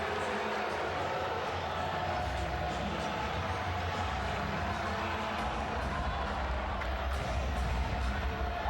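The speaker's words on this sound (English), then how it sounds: "The crowd is not liking this call." A crowd in a basketball arena reacts to a foul call at a women's college game, Arizona State against Baylor, as a sustained, restless murmur and rumble of many voices under a commentator's talk.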